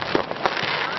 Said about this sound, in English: That's the sound many people start hearing the week of Independence Day.